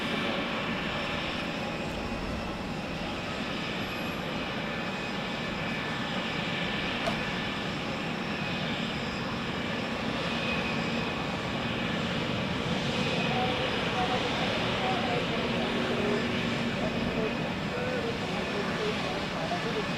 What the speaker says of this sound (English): Registered Hotel Bravo Juliet Victor Alpha and is departing to Oslo for Swiss